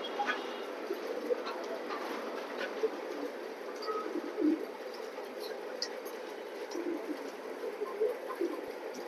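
Pigeons of a racing breed, kept in pairs in a loft, coo softly and steadily, with low murmuring calls repeating throughout beneath faint background noise.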